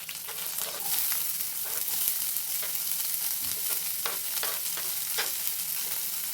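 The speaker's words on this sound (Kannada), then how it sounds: "ಈರುಳ್ಳಿನ ಗೋಲ್ಡನ್ ಕಲರ್ ಬರೋವರೆಗೂ ಚೆನ್ನಾಗಿ ರೀತಿ ಫ್ರೈ ಮಾಡೋಣ" Mustard seeds, green chillies and onion frying in a pan for a North Karnataka palya, a dense, continuous close sizzle with scattered sharp crackles and pops throughout, no voices.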